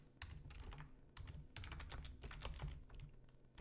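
Fingers type on a computer keyboard, close and quiet, with quick irregular key clicks in bursts and short pauses between them.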